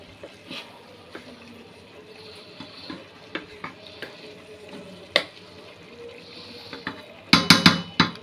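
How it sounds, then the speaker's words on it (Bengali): Khichuri made with broken polao rice being stirred in a boiling pot, soft wet scraping and bubbling close by, with a few ladle taps and a cluster of louder clanks at the end. "এখন আমি এটা নেড়ে দিব"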